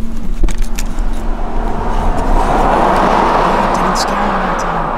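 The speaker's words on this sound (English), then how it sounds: "Car coming's gonna scare him away again" A car approaching along a road and passing close by, a rising broadband whoosh of tyres and engine that swells and holds loud, with rustling handling noise near the microphone early on.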